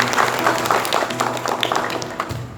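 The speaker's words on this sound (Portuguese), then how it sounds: "Aleluia, vamos aplaudir?" A church congregation applauds a young man, a steady wash of clapping close by, with a few voices mixed in and a low hum underneath.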